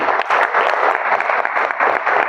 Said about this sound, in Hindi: इसके ऊपर ताली बजनी चाहिए नहीं बजनी?